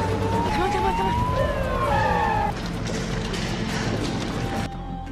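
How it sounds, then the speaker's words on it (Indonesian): A police car siren in a film scene wails in short rising and falling sweeps over busy action noise, then fades as the scene continues at a lower level. "Setelah mendengar sirine dari polisi, mereka semua melarikan diri"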